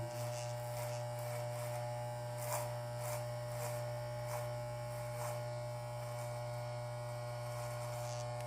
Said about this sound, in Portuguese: eu vou fazer o resto do corte utilizando a minha máquina no pente zero, sem nada, com a alavanca totalmente para cima.